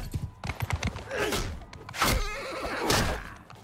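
Horse from the video game Mount & Blade II: Bannerlord, heard in combat: a loud close whinny with rising and falling pitch, preceded by quick hoofbeat thuds, then a second drawn-out neigh near the end.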